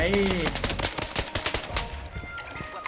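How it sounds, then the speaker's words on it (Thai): Rapid bursts of machine-gun fire in the shooter game BloodStrike, sharp repeated cracks in quick rhythm, loud and close, thinning out toward the end. "มีตรงนู้นเหมือนมีคนยิงอยู่นะยิงไง"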